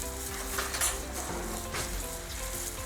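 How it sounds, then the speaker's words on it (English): Tanghulu fruit being turned in a pan of hot sugar syrup gives a steady close sizzle and bubbling crackle throughout, with faint scrapes of a fork against the pan and no talking. "you're just gonna keep them in your pan and just flip it with a fork"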